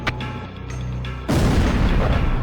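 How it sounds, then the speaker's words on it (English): Heavy bomb blasts in the Ace Combat Zero flight game, a loud low rumbling barrage that swells abruptly after a quieter stretch of engine drone and continues as dense, sustained detonation noise. "Initiate bombing sequence. Drop them all. Turn it to ashes."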